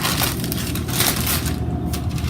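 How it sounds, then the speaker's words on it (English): Parchment paper being peeled off rolled pie crust dough, a loud, close continuous crinkling and crushing rustle with no speech. "take the top parchment off"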